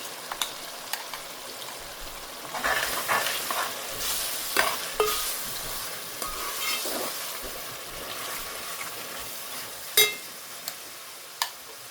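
Green masala is stirred into sizzling onions and tomatoes for a makul (squid) keema, with a steady frying hiss and repeated scraping clatters of the spoon against the pan, close and moderately loud.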